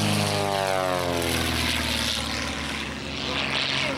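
Low droning engine and propeller roar from a World War II-era propeller aircraft passing overhead at a historical battle reenactment, loud and steady with a slowly shifting pitch as it flies by.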